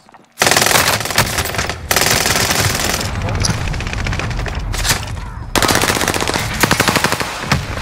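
Rapid automatic gunfire in Call of Duty: Modern Warfare, loud sustained bursts of machine-gun fire with short pauses between volleys, close and dominant while players talk over it.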